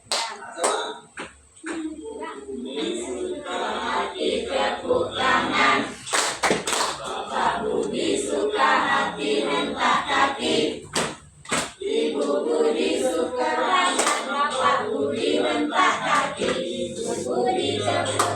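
A group of people in a school class clap hands and stomp feet together, with repeated sharp claps and dull thumps running steadily throughout, mixed with voices.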